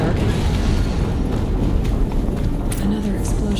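A deep, rumbling explosion booms in the Horizon Zero Dawn video game, a sustained loud low roar filling the moment with gritty, noisy texture and a short tonal blip near the end.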